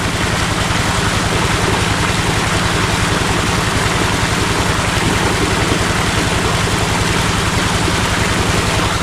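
A diesel engine drives an irrigation water pump on a farm, a loud, steady, throbbing low drone running without a break.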